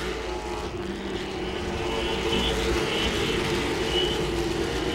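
Late model race cars roar around Langley Speedway in a continuous, loud engine drone with a slight swell toward the end, several cars blending into one steady racing roar without talk.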